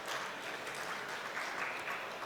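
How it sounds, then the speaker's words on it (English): Audience applause at a packaging presentation, a dense, faint, steady patter of many hands heard from a distance, filling the whole stretch without speech. "so a little applaud for him."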